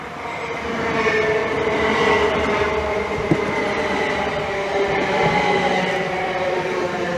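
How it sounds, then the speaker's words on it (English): A Class 375 Electrostar electric multiple unit on a Ramsgate to Faversham service passes close by, giving a steady, loud rumble with a brief click from the wheels, with no talking. "That is 375-707 with the Ramsgate service to Faversham."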